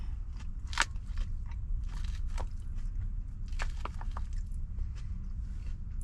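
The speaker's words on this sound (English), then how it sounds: "we're eating a delicious salad." Crunchy bites and chewing of a salad up close, with sharp irregular crunches over a low rumbling background and no talking.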